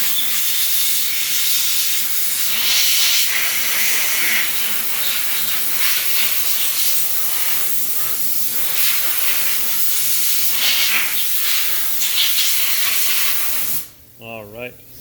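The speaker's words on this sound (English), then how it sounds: "spray out all of the surfaces" A steady, loud spraying hiss of pressurized coolant rushing continuously into the cavities of a V5 Stirling engine, ending abruptly near the close, followed by a brief faint tonal sound.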